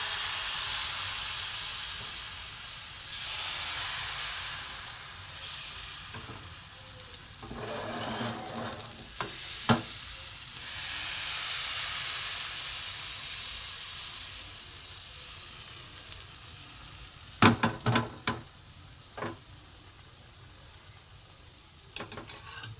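Thin batter sizzles in a little oil on a hot nonstick tawa, a steady hissing fry with swelling bursts and a few sharp crackles and spatters near the end, no voices.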